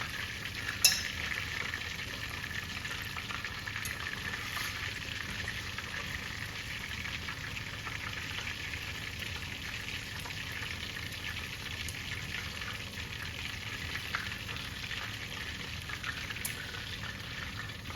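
Catfish frying in hot grease gives a soft, continuous sizzle and crackle, with occasional sharper pops throughout.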